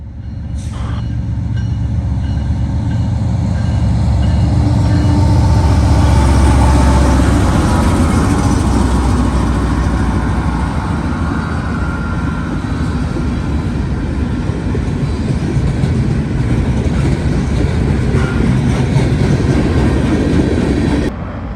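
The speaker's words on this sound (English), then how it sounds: "one more westbound manifest coming out of Elkhart bound for Chicago, with a BNSF and CN Givo duo, making their way with a very short train." A short westbound manifest freight train led by BNSF and CN locomotives rolls past near Elkhart, Indiana, a loud sustained roar of engines and rumbling wagons close by that stays steady for the whole stretch.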